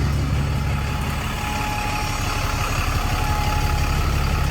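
A bus engine idles steadily with a low, even rumble and constant mechanical hum, heard alone throughout with no voices.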